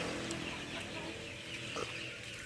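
Native chickens on a small Filipino farm clucking steadily together, a dense continuous flock murmur with scattered louder clucks, fairly close.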